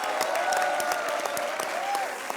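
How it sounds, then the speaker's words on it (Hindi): Studio audience applause on a Hindi comedy show set, loud, steady clapping filling the whole moment with a faint tonal line running beneath. "जोरदार तालियां इनके लिए"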